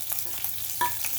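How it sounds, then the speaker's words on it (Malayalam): Chopped green chilies frying in a pan for poha, a brief, close crackling sizzle with a couple of sharper pops as they hit the hot oil. "ഇനി ഇതിൻ്റെ അകത്തിലോട്ട് നമ്മൾ അരിഞ്ഞു വെച്ചിരിക്കുന്ന ഗ്രീൻ ചില്ലി ഇടാം"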